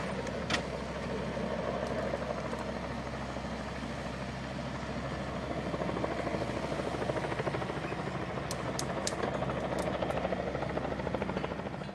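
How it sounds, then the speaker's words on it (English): Steady rotor thump and turbine roar from a helicopter lowering two logs to a busy logging landing, the drone holding evenly for about twelve seconds with a few faint high clicks near the end. "The helicopter is bringing down 2 logs."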